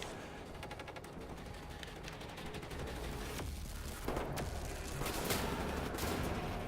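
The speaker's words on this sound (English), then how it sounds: "They shoot through the grating, probably, but not the concrete here." Gunfire in Wolfenstein: The New Order, a steady run of rapid shots and metallic clatter, with a louder, denser stretch of firing in the second half.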